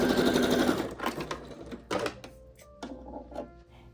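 Sewing machine running a straight stitch at the corner of a V-neck top, a loud rapid whirring burst at first, then short stop-start runs of stitching with clicks between them, close by.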